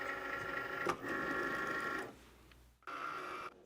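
A Cricut cutting machine cuts acrylic felt on a mat, producing a soft whirring motor hum with brief shifts and a short pause before the motor resumes, quiet and close with nobody talking.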